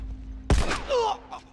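A single sharp gunshot headshot in The Last of Us, one loud close crack followed by a brief ringing tail and some faint vocal sounds after.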